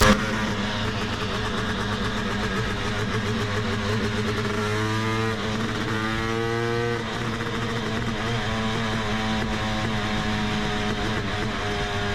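A 500 CR motorcycle engine runs on a dyno, holding a loud, steady drone close by with a brief rise and dip in pitch midway, and no voices over it.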